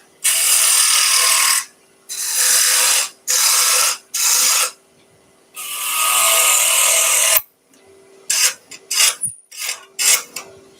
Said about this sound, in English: Down to a little 6mm or 1/4 inch bowl gouge to finish this bit off